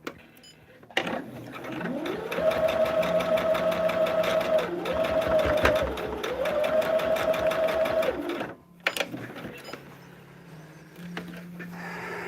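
A sewing machine stitches seams of a table topper in steady bursts, a close mechanical whir with rapid needle clatter running for several seconds, pausing briefly, then stopping; faint rustling follows.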